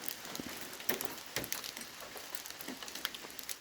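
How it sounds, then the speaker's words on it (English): Bouncing hail falling outdoors in the Adirondacks, scattered irregular ticks and light clatters of pellets striking surfaces, faint to moderate with no voices. "we're getting some bouncing hail here."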